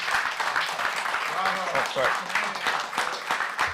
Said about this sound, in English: I should have saved the big applause for the end.